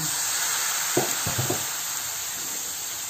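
Noodles with vegetables being stirred in a hot pan, steady loud sizzling with a few scraping knocks of a utensil against the pan.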